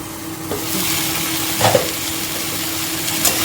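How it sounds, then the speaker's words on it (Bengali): Spice masala gently frying in a covered pan over a very low gas flame for a Bengali bata fish curry, giving a soft steady sizzle with a few faint clinks and stirring scrapes, close by with no talk. "গ্যাসটা একদম লো ফ্লেমে রাখলাম।"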